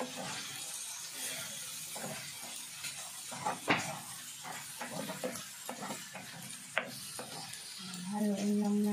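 Ingredients sizzle in a pan while being stirred, with a soft steady frying hiss and repeated scraping and clinking strokes, a few sharp knocks, and a brief tonal sound near the end.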